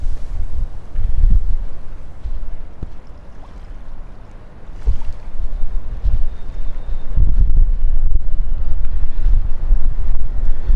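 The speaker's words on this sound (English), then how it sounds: "That wind certainly catching them on that final approach." Wind buffets a microphone at London City Airport, a steady loud low rumble with gusts swelling and fading throughout, no voices present.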